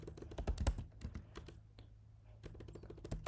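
Quick, soft clicking of keys as code is typed on a computer keyboard, in irregular bursts with brief pauses between them, close by and fairly quiet.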